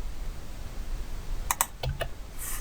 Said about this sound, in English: Okay, I'll type